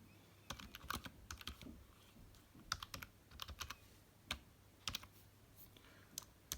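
Keys on a Nintendo-compatible keyboard clatter in irregular clusters of sharp, close clicks, with brief pauses between bursts of typing and no voices.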